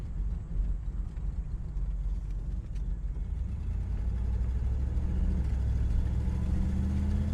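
A 1974 Pontiac GTO cruises along from inside the cabin, its engine a steady low rumble with a gradual rise in pitch and level as it pulls through a shift, no talk over it.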